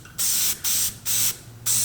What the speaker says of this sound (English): And then lastly, spray this side.